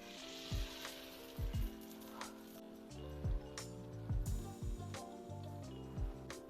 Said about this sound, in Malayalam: ഇച്ചിരി വെളിച്ചെണ്ണയാണ് ഞാൻ തടവുന്നത്